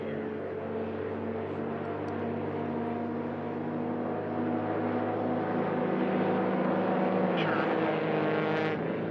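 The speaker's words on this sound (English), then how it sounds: "Both highly modified engines." Highly modified STOL racing aircraft engines roar during a drag race at the National Championship Air Races, a loud continuous droning hum with steady harmonic buzz that swells slightly midway and holds throughout.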